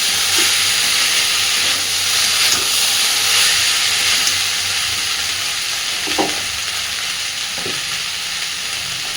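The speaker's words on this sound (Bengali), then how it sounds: "গ্যাসের ফ্লেমটাকে মিডিয়ামে রেখে আস্তে আস্তে সময় ধরে এটাকে ভালো করে কষতে হবে" Raw banana frying and being stirred in a pan over a medium gas flame, a loud continuous hissing sizzle with a few soft utensil knocks, no voices.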